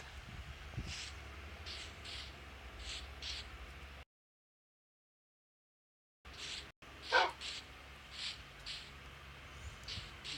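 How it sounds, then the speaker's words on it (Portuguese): Dogs barking in the Minecraft video game, short repeated barks in spaced bursts over a low game background, with a brief gap of silence partway through. "Vou soltar um dos meus cachorros"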